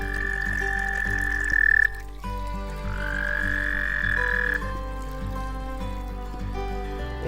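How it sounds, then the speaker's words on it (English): Frogs in a backyard fish pond croak in a dense, continuous chorus of overlapping pulsing calls, loud and close, with one high trilling voice standing out and no one speaking. "We've got new frogs, a little bit noisy this year, croaking away."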